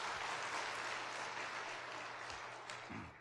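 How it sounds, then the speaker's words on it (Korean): A church congregation applauds during a Sunday worship sermon, dense continuous clapping from many people that fades slightly toward the end. "그 박수 한번 칩시다"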